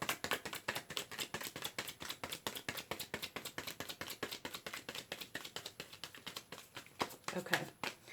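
A tarot deck is shuffled in quick, steady riffling taps, close and soft, with a brief murmur near the end.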